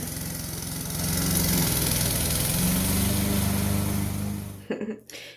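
A lawn mower engine drones steadily and loudly, then cuts off near the end, leaving a few short sputters and clunks.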